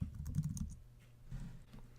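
Fingers type on a computer keyboard, giving soft, quick, close clicks in two short bursts over quiet room tone.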